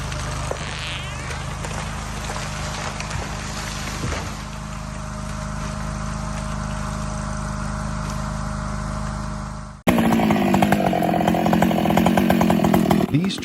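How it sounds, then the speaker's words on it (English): Chainsaw cutting into a tree trunk outdoors, a loud sustained engine drone that bogs and then surges into a harsher, louder roar partway through as the chain bites deeper. "The roar of the chainsaw cuts through the air, its blades sinking deep into each trunk like a strike of judgment"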